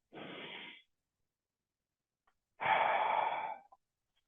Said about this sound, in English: Now I take another little breath.